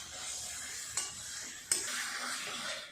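Taro leaves are stirred in a frying pan to dry them out while cooking a shrimp and taro greens dish. A quiet, steady sizzle plays alongside soft scraping, with two sharp utensil taps against the pan.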